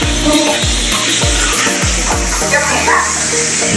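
Water gushes steadily from an automatic tap, splashing into a basin, with a series of low repeated thumps underneath.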